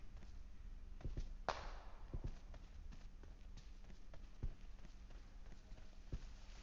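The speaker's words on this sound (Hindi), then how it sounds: "देख आवाज आई, फुटस्टेप आई, फुटस्टेप।" Footsteps in the mobile shooter PUBG Mobile, a run of irregular light thuds and taps repeating close by over a low game background hum, with no one speaking.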